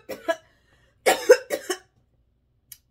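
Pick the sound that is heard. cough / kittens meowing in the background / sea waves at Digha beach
cough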